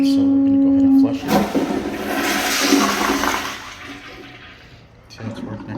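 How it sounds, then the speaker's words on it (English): A Sloan Flushmate pressure-assisted toilet flushes with a sharp burst and a loud rushing whoosh of water lasting a few seconds, close and forceful, then fading to a softer trickle after a brief steady hum. "we're going to go ahead and flush it"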